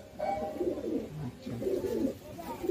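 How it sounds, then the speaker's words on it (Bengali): An old black-eyed pigeon coos in two close, rolling phrases, fairly near and clear, with no talk over it. "এইটা আমার পুরনো পায়রা"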